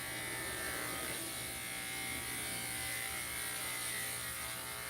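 Electric dog clippers fitted with a 3/8 inch, number 2 Andis adjustment comb give a steady, close, even buzzing hum that runs unbroken throughout, with no voices over it.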